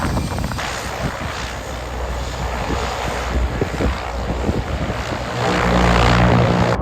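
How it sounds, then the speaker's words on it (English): Engine and propeller drone of a de Havilland Otter floatplane in flight over northern Canadian wilderness, a steady loud roar with heavy wind buffeting that swells near the end. "These are beasts of an aircraft, and they carry big loads all over the north of Canada."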